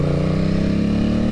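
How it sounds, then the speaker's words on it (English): Aprilia Tuono 660 motorcycle fitted with an aftermarket exhaust, riding through a tunnel. It gives a loud, close, steady snarling drone with a strong harmonic hum that drops off sharply at the end. "But you can get a nice little snarl out of the exhaust."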